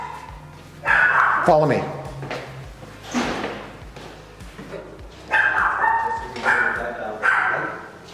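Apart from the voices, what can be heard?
puppies barking at animal shelter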